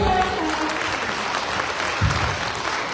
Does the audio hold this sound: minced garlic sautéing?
no